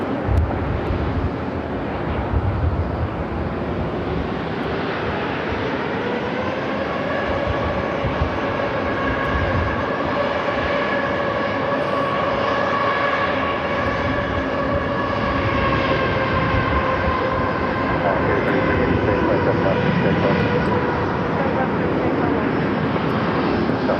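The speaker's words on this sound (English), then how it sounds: "Canada Star Alliance livery A330-300 heading to runway 8 there on the north side." An Air Canada A330-300 in Star Alliance livery taxis at Phoenix airport, its engines a loud, steady jet roar with rising whine tones that hold throughout the clip.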